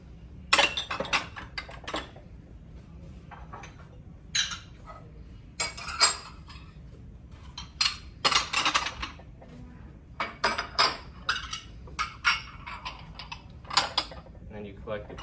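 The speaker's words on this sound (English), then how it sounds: "Always make sure to stack similar dishes to save room on your tray." Restaurant dishes and cutlery are stacked onto a bussing tray. Sharp clinks, clatters and scrapes of plates and silverware come close up in irregular bursts over a quiet background.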